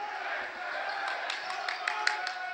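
Spectators at a men's college basketball game between CWRU and Washington University cheer steadily, with scattered claps and shouts, while a commentator talks over them.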